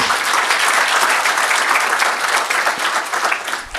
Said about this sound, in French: je demande d'applaudir à l'équipe Hadoul Nao.